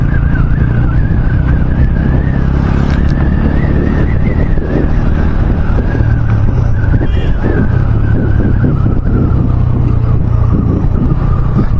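Bajaj Pulsar N160 motorcycle leaning hard through turns, its engine droning loud and steady with a rising and falling whine, close up under heavy wind rush throughout.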